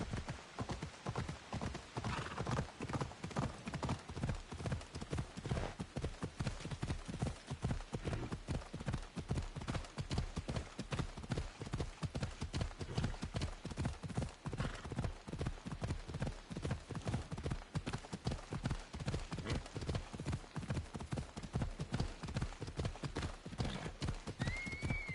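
Phobos, a horse in Assassin's Creed Odyssey, gallops with a steady, rapid clip-clop of hooves lasting throughout, loud and close, and a brief whinny cuts in near the start.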